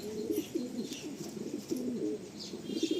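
Soft, low pigeon cooing repeats in rolling phrases throughout, close by, with a faint hiss and light chirps in the background.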